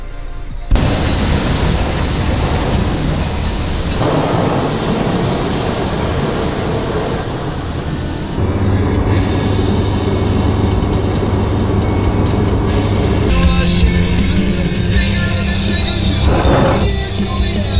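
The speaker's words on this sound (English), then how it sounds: "Looks like they like burnouts." Cars doing burnouts at a stance meet, a loud, continuous roar of revving engines and spinning tires that swells and shifts throughout without letting up.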